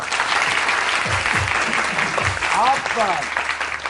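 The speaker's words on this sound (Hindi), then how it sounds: "आप इनके लिए बहुत सारी तालियां" A studio audience on a morning talk show applauds arriving guests in a steady, dense wash of clapping. Voices and faint musical tones come through underneath.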